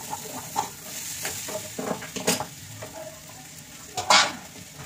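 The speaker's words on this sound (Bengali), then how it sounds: "শুকিয়ে ধনিয়া আলু খুব কষাবো" Coriander potatoes with green chillies fry in a pan while being stirred, a steady low sizzle broken by scraping spatula strokes and a few sharper clinks, close and fairly quiet with no talk.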